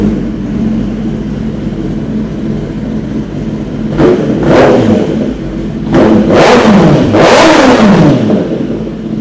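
A Kawasaki ZX-10R sport bike fitted with a new aftermarket exhaust, velocity stacks and air filter idles steadily, then is revved hard in loud sharp bursts, with two big throttle blips rising and falling near the end.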